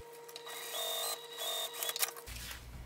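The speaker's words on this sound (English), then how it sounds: "We're just going to baste this in place. So I'm just going to do an eighth of an inch seam allowance at this point." Sewing machine basting an eighth-inch seam on a small fabric crossbody bag, a steady close mechanical hum with a high whine that stops abruptly near the end, no talking.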